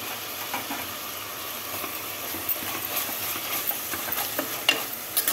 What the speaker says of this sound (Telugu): అల్లం పేస్ట్ వేస్తున్నాం